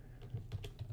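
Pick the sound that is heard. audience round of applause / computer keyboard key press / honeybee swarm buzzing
computer keyboard key press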